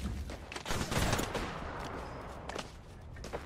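Gunfire crackles in a tense Apex Legends firefight as players shoot at a respawn point, quiet and somewhat distant, with a denser burst of shots early and scattered sharper reports afterward.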